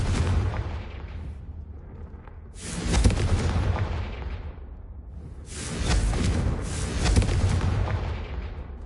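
Confringo blasting spells from the Hogwarts Legacy video game, two loud booming explosions with whooshing rumbles a few seconds apart, over a continuous low roar, no talking.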